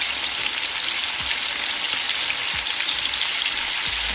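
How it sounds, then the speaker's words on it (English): Flour-dusted chicken wings frying in hot oil in a pot, giving a loud, steady crackling sizzle with dense popping throughout and no voices. "And just fry as you would normally be frying your chicken."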